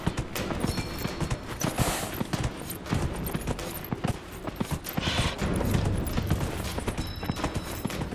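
A horse galloping in Dragon Age: Inquisition, rapid rhythmic hoofbeats clattering steadily through the whole stretch, fairly faint, with no talking.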